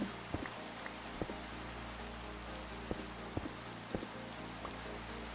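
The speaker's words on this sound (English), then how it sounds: "Oh, it started raining." Rain falls in the video game Minecraft as a steady, even wash of soft patter, with a few sharper drip-like ticks scattered through it. The whole sound stays fairly quiet and there is no talking.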